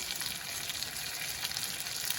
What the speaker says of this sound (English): now we've got a gentle boil